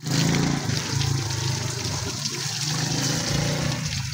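Water splashing and pouring over a cow being bathed outdoors, a loud continuous wash of gushing noise with a low rumble beneath, steady throughout.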